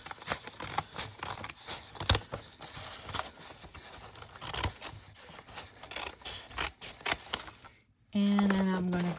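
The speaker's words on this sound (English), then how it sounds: "And then I'm going to cut it open." Scissors snip and rasp through paper in a quick irregular series of close crisp cuts and scrapes, with a voice breaking in at the end.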